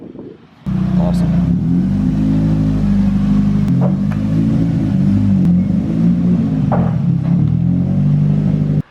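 A car idles close by with a steady, loud engine rumble, starting abruptly and holding at a deep even drone with small surges, as cars are driven out of a garage.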